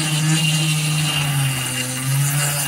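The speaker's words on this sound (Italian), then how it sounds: "se questa punta la tengo ferma, allora è la punta che mi fa lo scavo, se io la muovo invece pialla" Power drill fitted with a masonry bit planing grooves out of a smoothed stone, a steady close whining motor drone running continuously with slight pitch wavers and no talk.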